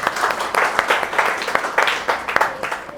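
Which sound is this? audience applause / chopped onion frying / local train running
audience applause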